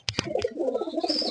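A Sapchila-blood pigeon coos in a soft run of low murmuring notes close by, following two or three short sharp knocks at the start.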